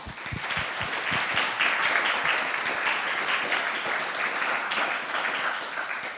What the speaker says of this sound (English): I would like to give her a round of applause at this point for this